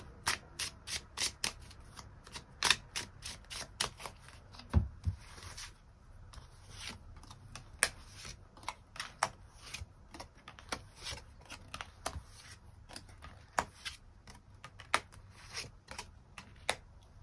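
Tarot cards are shuffled and drawn, giving rapid riffling flutters and soft slides, close and quiet, coming in irregular bursts with faint rubbing between them.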